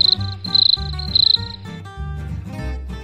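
Repeated bursts of high, shrill cricket chirping in short rhythmic trills, with tonal electronic music underneath.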